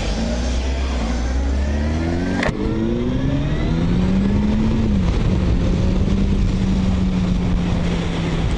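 A 2001 Honda CB900 Hornet motorcycle accelerates hard on the road, its engine note climbing steadily through the gears with a brief gear-change dip, loud and close with wind roar building behind it.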